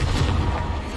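A fiery Confringo spell blast fired in Hogwarts Legacy, one short booming burst with a heavy low rumble, loud and close, with no talking.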